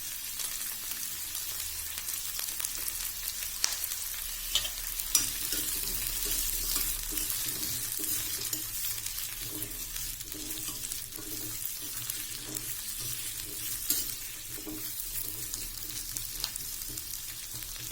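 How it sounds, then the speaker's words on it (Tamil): Steady hissing sizzle of garlic and onion sautéing in a pan over medium flame, with occasional soft stirring clicks and scrapes throughout. "பூண்டு வெங்காயம் சேர்த்து நல்லா வணக்கி விட்டுருங்க"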